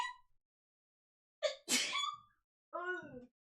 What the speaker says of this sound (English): I hope you didn't hear me sneezing